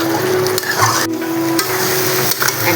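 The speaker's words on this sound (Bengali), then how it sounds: "সিদ্ধ করে রাখা চর্বিটা এখন আমি আলুর মধ্যে দিয়ে দিচ্ছি। মশলার সাথে এটা কষাবো।" Boiled mutton fat is stirred into potatoes and spices in a pan, a spoon scraping and knocking against the metal while the mixture sizzles steadily, with a few sharper clacks close by.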